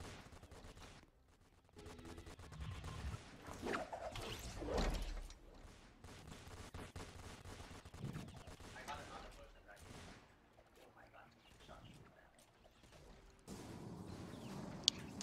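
Roblox Fortnite Simulator gunfire crackles in scattered bursts, some rapid like a machine gun, mixed with thuds and talk, mostly faint and uneven over about fifteen seconds.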